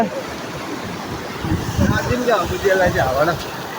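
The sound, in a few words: river stream flowing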